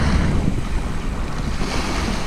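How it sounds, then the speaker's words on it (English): Seawater splashes and surf wash along the shore at Eastbourne during saltwater lure fishing for bass, a loud, steady rushing broken by small splashes and buffeted by wind on the microphone, with no talk. "Lots of little splashing in the water then."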